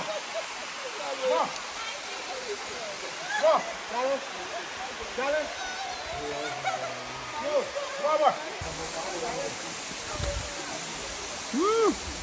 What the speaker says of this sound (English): Look at all the waterfall, taking pictures.